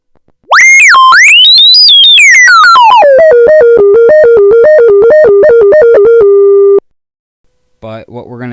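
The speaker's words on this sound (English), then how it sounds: "as you bring the resonance up a lot higher, the resonance will really scream on you" An Arturia MiniBrute synthesizer with its filter resonance turned high, screaming in loud, piercing, whistling tones that sweep and then step up and down in a jittery pattern before cutting off, followed by brief talking.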